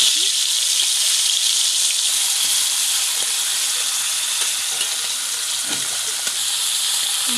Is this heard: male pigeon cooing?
no